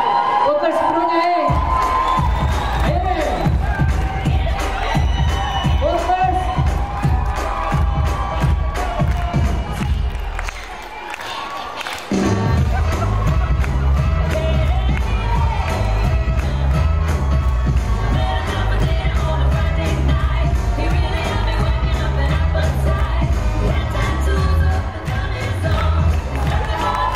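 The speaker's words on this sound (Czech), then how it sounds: "Potlesk pro něj!" A crowd cheers, whoops and claps loudly through a dance team show as a man dances briefly to Candyman, with a sharp cut in the middle and voices shouting throughout.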